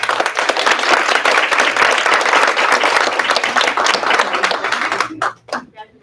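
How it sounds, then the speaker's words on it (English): Steady applause from a crowd at a school district board meeting, dense clapping that fills the room for about five seconds, then trails off into a few scattered claps. "So Mr. Bland, another round of applause for the start, please."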